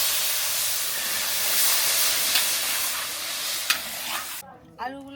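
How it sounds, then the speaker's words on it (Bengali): Fried goat meat braising in a pan after broth is poured in, a steady loud sizzle and hiss with stirring scrapes, easing off near the end as the liquid settles. "আমি এখন কষানোর জন্য ঝোল দিয়ে দিচ্ছি।"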